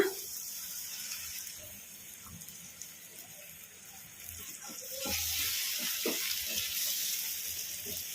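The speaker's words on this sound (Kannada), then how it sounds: "ಈ ನೀರು ಹಾಕಿ ಕಲಸ್ಕೊಂಬಿಡೋಣ" Water poured into frying masala for soya chunks curry in a pan, a soft sizzle that swells into a louder splashing hiss midway, close and alone with no talk.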